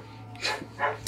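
A dog in an episode of The Last of Us gives two short breathy barks or yelps, medium-close, spaced about half a second apart, followed by a sharp louder burst at the end.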